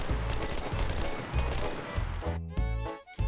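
Rapid gunfire in the shooter game Enlisted, a dense close burst of repeated shots that fills most of the moment before a brief gap and a final volley.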